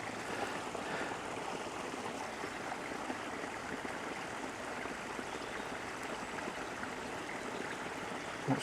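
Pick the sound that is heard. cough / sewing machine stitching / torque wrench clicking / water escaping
water escaping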